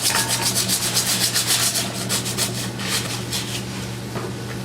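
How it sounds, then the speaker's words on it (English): Emery cloth rubs around a metal pipe to clean off paint and rust, giving a close, rhythmic abrasive swishing that is strong at first and then eases into a softer steady scrub. "Use your emery cloth, 360 degrees around the pipe itself, removing any contamination,"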